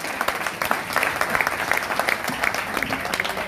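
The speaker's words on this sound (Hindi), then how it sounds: "ताली बजा दे एक बार इनको पता चल जाए।" Audience applause at a grand poetry gathering (kavi sammelan), a dense steady patter of many hands clapping for a few seconds, close and lively, with no talk over it.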